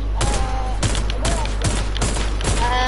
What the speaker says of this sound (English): I'm using my pistol right now because I like my pistol